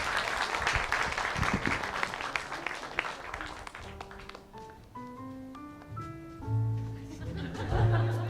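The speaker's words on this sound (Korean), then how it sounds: "기업인이자 산악인인 김병기 씨 그리고 가수 손병희 씨께 큰 박수 부탁드립니다." An audience at a Korean humanities concert applauds steadily for several seconds, with light laughter mixed in, before the clapping fades under soft piano notes.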